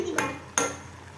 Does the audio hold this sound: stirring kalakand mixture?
yes